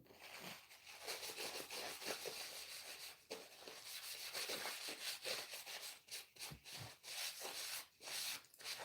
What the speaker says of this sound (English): So I'm just wiping back all of the excess.